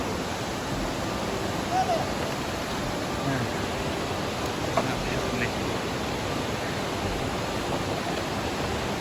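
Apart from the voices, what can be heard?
waterfall at Meghalaya living root bridge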